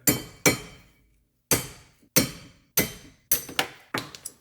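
A crowbar strikes and pries at rusty rear brake fasteners on a 2007 Subaru Forester. It makes about eight sharp metallic clinks at uneven intervals, each ringing briefly, close and loud, with no voices.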